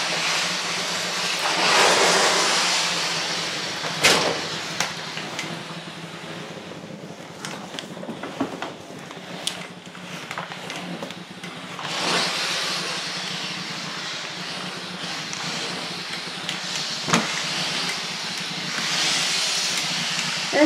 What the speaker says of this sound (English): The floor will dry quickly because it's hot steam, hot water.